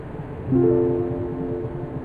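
Low tonal horn of an underground tram about to leave in the indie horror game Hypogeal, sounding once for about a second over a steady rumbling hum.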